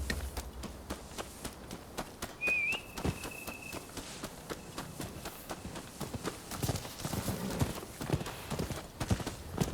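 Steady clip-clop of horse hooves trotting close by in the video game Rise of the Ronin, with rapid rhythmic clatter and a brief whistle-like tone early on.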